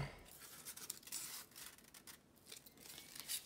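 Scissors snip and rasp through cardboard while a craft tree shape is cut out, a close, quiet run of scratchy cuts with short pauses between them.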